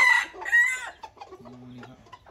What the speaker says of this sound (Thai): ไก่ป่าพันธุ์ผสมนะครับ